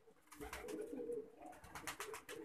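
A pair of blue Washi pigeons from Faisalabad coo in short, repeated throaty bursts, faint and close with no voices.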